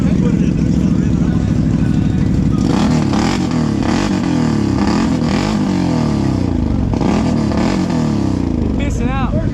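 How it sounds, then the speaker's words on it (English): A Can-Am Outlander XMR 1000 ATV engine, loud and close, drones steadily before revving in several rising and falling surges while in neutral, with people talking over it outdoors near a river. "Put it in neutral, rev it up a couple times."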